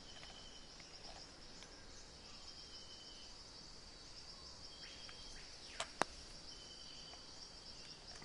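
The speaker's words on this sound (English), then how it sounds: "I like the fact that they've got the sort of tropical bird sounds in here on this one as well" Tropical birds and insects trill faintly across a golf course in The Golf Club 2, a steady high buzzing bed with a couple of brief sharp calls near the end.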